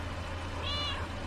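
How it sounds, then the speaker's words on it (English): A cat gives one short, clear meow over a steady low background hum. "Here, little kitty, come on."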